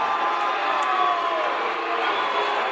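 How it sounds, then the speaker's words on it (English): A home crowd at a boys' high school basketball game, Lone Peak at Lehi, voices a sustained, steady murmur of disapproval over an offensive foul call, filling the gym without any clear cheering peaks. "Home crowd doesn't like it."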